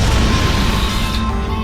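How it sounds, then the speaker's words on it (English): A rumbling, crashing explosion in the puzzle game Portal Stories: Mel, heavy and sustained, with a dense low roar that fades slightly toward the end. "Another distance explosion?"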